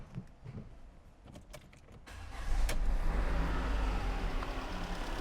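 After a few light mechanical clicks, a freshly cleaned Peugeot 2008 engine starts in a workshop and settles into a smooth, steady, close-up idle with a low rumble.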